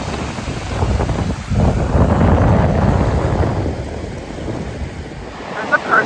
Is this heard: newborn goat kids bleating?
no